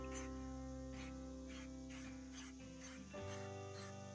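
Eight short bursts of aerosol hairspray from an old can, evenly spaced about half a second apart, each a bright hissy puff over a steady low background hum.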